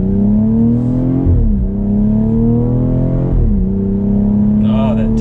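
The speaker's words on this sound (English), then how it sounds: "Let's test it 0 to 60 real quick." A 2019 BMW X3 M40i accelerates from 0 to 60 mph, its engine note climbing steadily through two gear changes with a brief dip at each shift, loud and close from inside the cabin.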